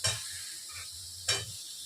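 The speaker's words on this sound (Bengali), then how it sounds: "এইবারে আমি সেদ্ধ করে রাখা এঁচোড়গুলোকে এর মধ্যে দিয়ে দেবো।" Boiled jackfruit pieces are tipped into a pan of frying spice mixture for a jackfruit-and-prawn curry, giving two soft stirring, scraping bursts over a low, steady sizzle, fairly close, with no talking.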